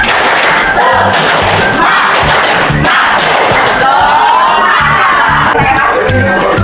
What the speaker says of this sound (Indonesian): Coba kalau siap, tepuk tangan semangat.